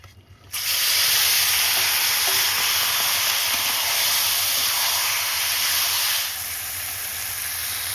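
Tomatoes hit hot oil for a duck curry, erupting into a loud, steady sizzle that holds strong and then eases slightly, with no talking.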